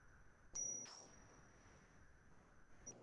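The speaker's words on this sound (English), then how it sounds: "And so the bell sound is interesting." Small bell rung during a classroom breathing exercise: one bright ding that rings on and slowly fades, a second soft strike, and a faint third tap near the end, all in a quiet room.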